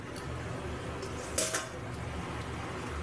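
Metal pot lid lifted off a simmering pan of ridge gourd posto in a home kitchen, giving a brief bright clink and clatter midway through a steady background of bubbling and cooking hiss.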